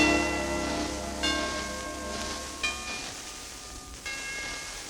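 Orchestral chimes struck three separate times at roughly one-second intervals, each a bright, ringing metallic strike with long sustained tones decaying over a low instrumental hum.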